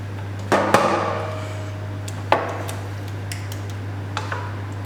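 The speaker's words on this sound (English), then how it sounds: "we're spreading it out with a wooden spoon." Wooden spoon working bolognese across a layer of lasagne in a baking dish, giving a few scattered knocks and scrapes, one firmer tap near the start and another midway, with quieter ticks later over a steady low hum.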